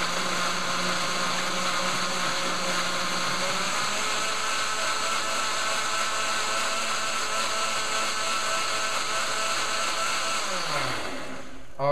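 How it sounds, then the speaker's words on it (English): A KitchenAid blender whirs loudly and steadily while blending kale, its motor drone holding constant for about ten seconds before winding down near the end. "this is a KitchenAid blender, which works really well"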